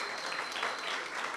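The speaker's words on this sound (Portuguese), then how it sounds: "Dá uma salva de palmas aí para a Deise, gente." A church congregation applauding, a dense and steady wash of many hands clapping together, moderately distant and sustained for the whole moment.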